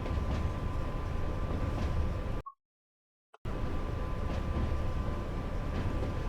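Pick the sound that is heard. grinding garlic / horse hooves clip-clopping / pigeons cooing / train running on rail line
train running on rail line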